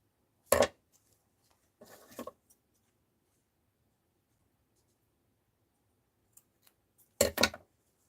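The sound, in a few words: cutting out a scarf for a Scrooge doll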